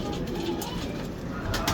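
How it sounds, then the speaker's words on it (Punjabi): A female pigeon of the Chui breed coos in low, soft murmurs nearby, brief and faint against light background noise, with no speech. "ਕਬੂਤਰੀ ਚੂਈ ਮਾਦੀ ਆ ਜੀ"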